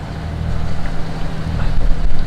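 A boat's struggling engine held at about 1,500 revs while crossing the English Channel, a low steady drone close by, mixed with wind buffeting and water noise.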